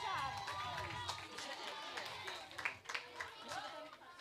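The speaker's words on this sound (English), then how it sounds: "give them a round of applause" Primary school students and onlookers clapping for competing teams at a STEM challenge event, scattered uneven claps under crowd chatter and voices, faint and somewhat distant.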